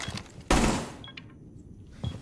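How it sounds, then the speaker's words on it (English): A sharp, loud burst of gunfire in a video game is aimed at a jukebox, followed by a fading tail and a second, softer shot near the end. "Just shoot the jukebox there."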